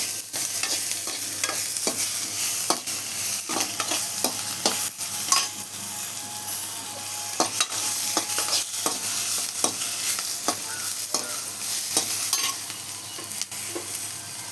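Vallarai greens and coconut sauté in a pan for chutney. A steady, close sizzle runs throughout, cut by frequent sharp scrapes and clacks of stirring.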